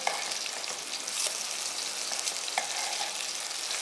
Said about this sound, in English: we're gonna give the pot a bit of a stir